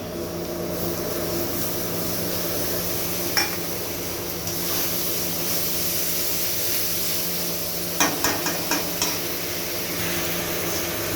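Ginger garlic paste fries with browned onions for a Bengali chicken curry, a steady loud sizzle under a constant hum, with a few sharp clinks of a spoon scraping the pot near the end.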